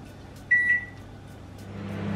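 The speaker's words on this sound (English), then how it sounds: "I'm going to put it in the microwave" A steady low appliance hum runs throughout, with a brief bright electronic tone near the start, close by and quiet.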